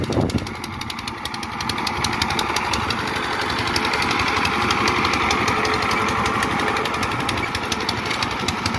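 A walking tractor engine churns and breaks up soil in a field, giving a loud, continuous, rough mechanical chugging close by that holds steady throughout with no talking.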